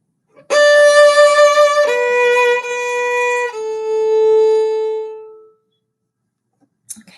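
A bowed string instrument plays the closing notes of "O Come, Little Children," a few sustained tones that fade from loud to soft, ending on a long quiet held note, close and solo.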